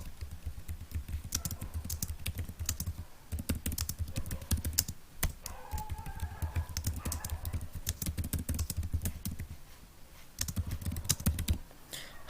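Rapid typing on a computer keyboard while writing a blog post, with quick irregular bursts of clicking keys broken by short pauses, fairly close and moderately quiet.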